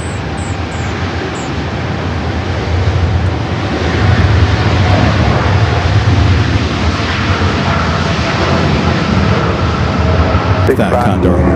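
An airliner's jet engines roar steadily as it rolls along a runway at Los Angeles International Airport, a broad, loud rumble that builds slightly midway and holds, with a brief higher whine near the end.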